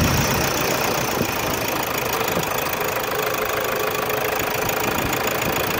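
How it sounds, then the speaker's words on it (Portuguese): A Toyota Hilux 3.0 diesel engine starting and idling after injector replacement, tank cleaning and decarbonization, a steady close rumble with a rhythmic knock and a continuous hiss, unbroken for the whole stretch. "Vamos dar partida agora, vamos ver se ficou."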